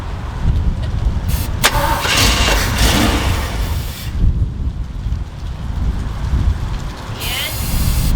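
A long-idle Jeep J10 cranks and tries to start with a loud, steady churning of the starter and engine. A noisy, wind-buffeted outdoor background runs throughout.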